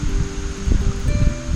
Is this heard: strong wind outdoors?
yes